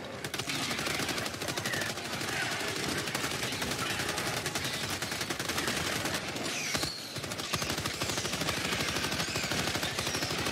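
Rapid automatic gunfire from the video game Helldivers 2 fills the scene, a dense, continuous stream of shots and bursts with a brief dip midway, loud and close throughout.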